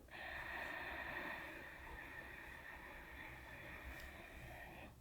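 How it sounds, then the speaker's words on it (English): A steady, soft ocean-like breath drawn in through a constricted throat, one long hissing inhalation held for several seconds at close range, quiet and unbroken, with no talking. "We will inhale, constricting the muscles of the back of your throat"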